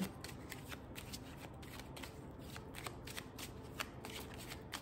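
Tarot cards being shuffled by hand: a continuous run of soft, riffling flicks and papery slaps, close up and steady, with no talking over it.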